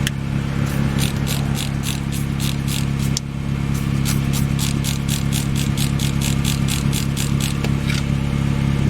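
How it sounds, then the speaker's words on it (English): A 1997 Honda Civic idles with an exhaust leak at a rusty donut gasket, spitting out sharp rhythmic ticking puffs over a steady engine hum, close up and continuous, with one short break. "So it just spits out."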